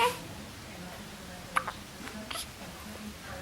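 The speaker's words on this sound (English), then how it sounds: "I think you got the hiccups again." A baby hiccups softly in a quiet room, with a couple of sharp little catches standing out over low background noise and faint voice-like murmurs.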